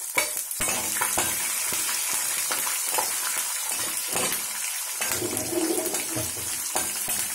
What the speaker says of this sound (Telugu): పోపు వేగుతుంది